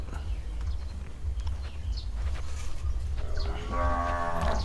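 Cattle moo during nose-roping in rural Kamphaeng Phet, Thailand: one low, drawn-out moo rises near the end over steady outdoor noise and faint shuffling.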